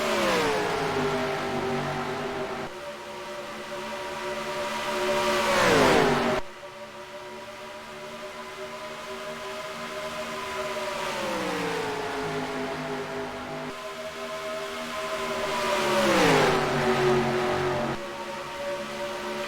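Ford Taurus stock cars race in NASCAR Racing 2003 at Las Vegas Speedway, engines droning steadily at high revs with rising and falling pitch sweeps as cars pass, no talk.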